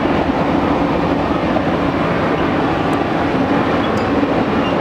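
The long Blue Unit circus train rolls past on the rails near Mojave Junction, a loud, unbroken, close rumble of wheels and cars with no voices.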